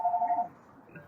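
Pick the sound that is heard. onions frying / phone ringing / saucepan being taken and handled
phone ringing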